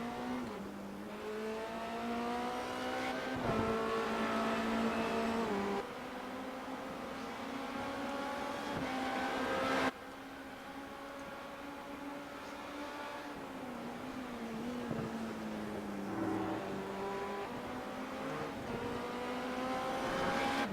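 Race car engine from the iRacing video game at Silverstone, droning steadily with rising and falling pitch as cars accelerate down the straight and work through turns and a chicane, continuous and fairly loud.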